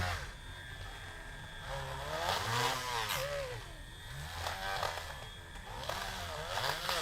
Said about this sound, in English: we're grinding up that old peg that was in there